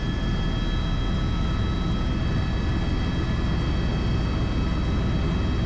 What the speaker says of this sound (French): Donc l'appareil est un Airbus hélicoptère H130 équipé d'un turbomoteur turboméca AL2D développant